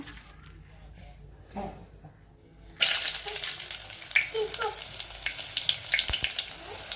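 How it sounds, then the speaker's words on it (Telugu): Small silver fish sizzle in a pan over a low gas flame, a quiet start giving way after a few seconds to a loud, steady frying hiss with faint clatter and some voice underneath. "ఫస్ట్ అయితే వెండి చేపలు ఫ్రై చేసుకోవాలి"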